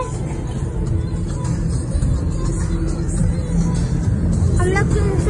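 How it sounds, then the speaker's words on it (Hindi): Road traffic in a busy Indian street, heard from a slowly moving vehicle: a continuous broadband roar of engines and tyres with a passing horn-like whine near the end and faint background chatter. "आप देख सकते हैं यहाँ पे कितना ट्रैफिक हो रहा"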